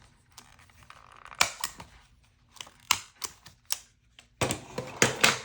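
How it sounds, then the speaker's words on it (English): Several sharp mechanical clacks and crunches at irregular intervals, like a stapler punching through paper, close by, with quiet rustling in between. "I'm just gonna staple this here."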